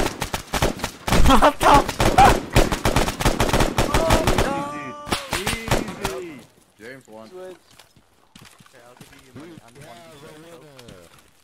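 Rapid automatic gunfire from the Arma 3 military shooter, a dense burst of loud cracks over the first few seconds, then it breaks off and voices talk with scattered game sounds.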